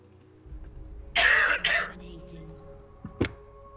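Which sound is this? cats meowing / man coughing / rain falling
man coughing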